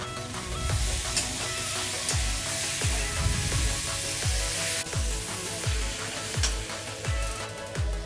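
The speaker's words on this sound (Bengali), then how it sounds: "এরপর ওর মধ্যে চিংড়ি মাছ ভাজাগুলোকে দিয়ে দিলাম।" Fried shrimp sizzle in a pan of jackfruit and shrimp curry with sugar, a steady frying hiss broken by regular scraping strokes of a stirring spatula, close and continuous.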